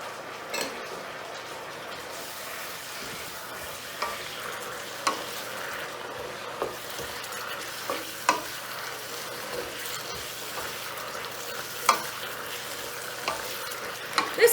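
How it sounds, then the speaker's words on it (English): Mushrooms and broccoli sizzle steadily in a pan for a shrimp stir fry, with a spoon scraping and tapping the pan at irregular intervals, close and continuous with no talking. "Now I'm going to go ahead and add in the mushrooms and broccoli."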